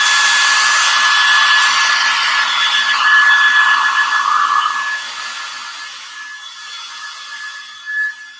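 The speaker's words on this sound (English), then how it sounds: "So I'm going to hit this real quick with the hairdryer because it's still pretty wet." A hair dryer blows steadily and loud up close on wet paint on a flea-market chandelier, holding for about five seconds before trailing off into a quieter, fading hiss.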